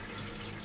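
Steady rushing of running water from an aquarium CO2 reactor, continuous and fairly close, with a soft bubbling texture and no talking.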